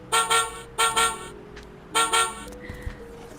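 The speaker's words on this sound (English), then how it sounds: "so let's hear the bus sound also" Bus sound effect from a children's sound book: short electronic honks in two double bursts, a pause, then another burst, followed by a faint softer engine-like tail, with no talking.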